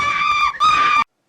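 A woman screams loudly in a horror film, two sustained high-pitched shrieks separated by a brief catch of breath, then abrupt silence.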